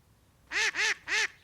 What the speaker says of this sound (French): Coin, coin, coin, coin, coin.